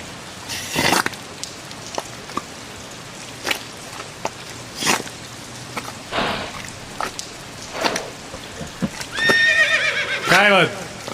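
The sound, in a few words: horse neighing and hooves clip-clopping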